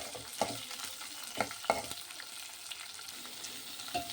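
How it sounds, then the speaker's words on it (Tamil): Onion, dried red chillies, green chillies and garlic are sautéed in a pan for beetroot chutney, with a soft steady sizzle broken by a few sharp scrapes and knocks of a stirring spoon against the pan. "அதில் நான் காஞ்ச மிளகாவும் பச்சை மிளகாவும் பூண்டையும் சேர்த்து வதக்கிட்டுருக்கேன்."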